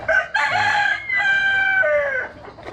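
A young gamecock stag crows nearby, one full harmonic crow rising and trailing off over a couple of seconds, loud and clear with no talk.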